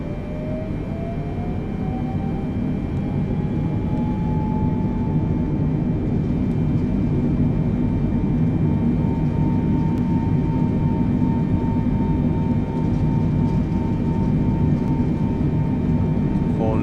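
A simulated airplane engine spools up to full throttle for takeoff in Microsoft Flight Simulator: a rising whine settles into a steady, loud, droning roar with a constant hum that holds for the whole stretch.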